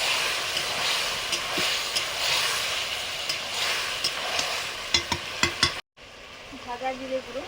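Vegetables sizzling in a hot pan with chili powder while being stirred, a steady hiss broken by several sharp scraping stir strokes near the end, close and moderately loud.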